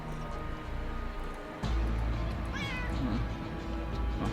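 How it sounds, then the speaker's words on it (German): A cat meows once or twice in Underrail, a short clear cry rising over a steady, fairly loud game background hum after an abrupt jump in ambience. "Katze."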